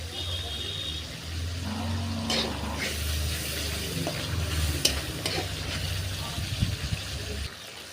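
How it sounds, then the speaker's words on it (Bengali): Tomato and masala fry in oil in a pan for chicken curry, a steady close sizzle with stirring scrapes and occasional crackles, while a voice talks over it. "তো একটু ভালো করে কষি নিয়ে যতক্ষণ না তেল ভালো করে না বাড়াচ্ছে ততক্ষণ কষাবো"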